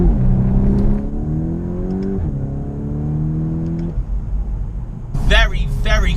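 A VW T-Roc R with a 7-speed DSG gearbox accelerates in manual mode, the engine note rising through quick gear changes with a brief burble at each shift; a voice speaks near the end.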